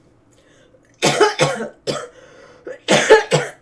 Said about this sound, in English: still do have a bit of a cough